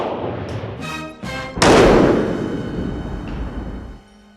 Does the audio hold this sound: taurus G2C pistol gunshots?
yes